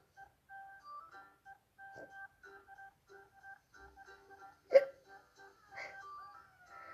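A person making deliberate, playful hiccup sounds, several short squeaky gulps spread across the clip with one sharper, louder hiccup near the middle, close and quiet with brief gaps between.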